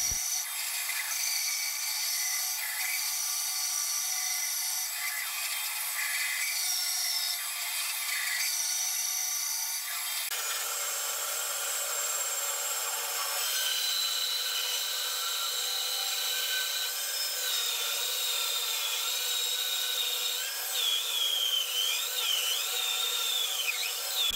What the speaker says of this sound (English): this bandsaw blade has seen better days, and it was really struggling to get through the 5 layers of plywood